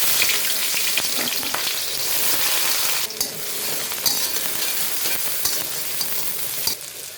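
Chopped onions frying in hot oil in a wok, a loud steady sizzle with crackling bursts and occasional stirring scrapes throughout, close and without talk.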